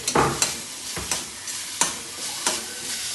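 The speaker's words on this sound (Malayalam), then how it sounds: "അതിലേക്ക് ഞാൻ ഇഞ്ചി, വെളുത്തുള്ളി, ഒരു 5 വെളുത്തുള്ളി, ഒരു കഷ്ണം ഇഞ്ചി ചതക്കിയത് അത് നന്നായി ഒന്ന് വാടട്ടെ" Crushed ginger and garlic sautéing with onions in a pan for a Kerala-style beef bone curry, a steady sizzle broken by several sharp stirring scrapes at irregular intervals, close and alone.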